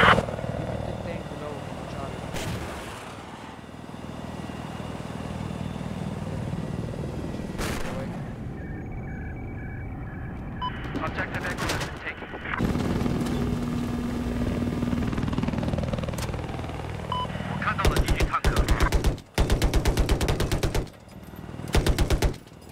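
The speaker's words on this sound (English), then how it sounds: "Chopper. He's far" Helicopter rotor whir in a multiplayer military shooter video game, a steady distant drone with bursts of gunfire near the end.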